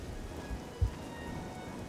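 Quiet, steady patter of rain falling in the video game Oblivion, a soft continuous hiss with one brief low thump, heard alone without talk.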